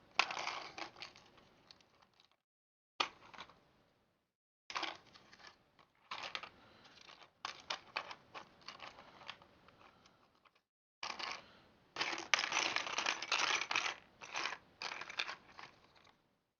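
Small metal nuts and washers for Traxxas X-Maxx shock absorbers clink and rattle close by in bursts of light, sharp clicking, with short pauses between handfuls.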